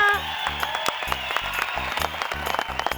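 Audience applause greets a woman host opening a beautiful evening show with a magic act, a busy wash of claps mixed with steady music-like tones throughout.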